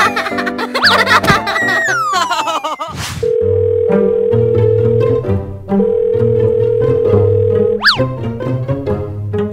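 Telephone dial tone in the Roblox game Brookhaven, a loud steady electronic tone held in two long stretches, alongside springy boing effects, giggly cartoon sounds and bright game music.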